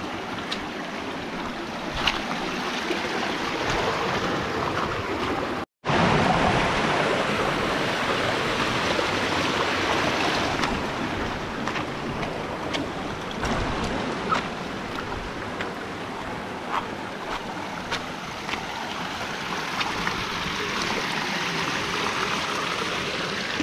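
Loud, continuous roar of strong rushing water, close and unbroken, with a brief cut partway through.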